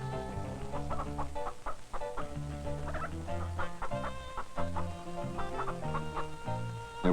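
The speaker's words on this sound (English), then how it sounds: "There was a bantam rooster and a little bantam hen with a big clutch of eggs." A bantam rooster and a small bantam hen with a big clutch of eggs cluck steadily over a sustained musical backdrop, the fowl calls running throughout at moderate loudness.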